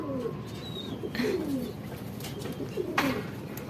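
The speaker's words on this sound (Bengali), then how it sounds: "অনেক দিন পর একটা কবুতর আছে বাসায়" Low cooing of a long-necked pigeon indoors at a house, a few soft rolling coos spaced across the moment, close and moderately loud over a faint background hiss, with no talking.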